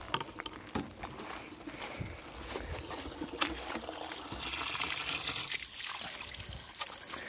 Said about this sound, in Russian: А я просто ставлю канистру и жду, когда она наберется.